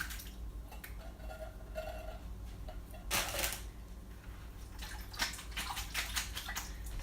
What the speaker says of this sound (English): I'm just gonna drain these tomatoes real quick.